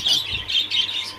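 A parrot calls nearby in a series of shrill squawks, four short bursts in quick succession with no talk over them.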